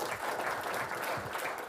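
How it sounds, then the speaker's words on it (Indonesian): Audience clapping at a talk on national resilience, steady and moderately loud for under two seconds, a dense wash of hand claps with no voices over it. "boleh tepuk tangan"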